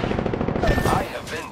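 Rapid automatic gunfire from an Apex Legends firefight, dense bursts of shots rattling continuously and loud for most of the moment before thinning out, with a voice faintly mixed in.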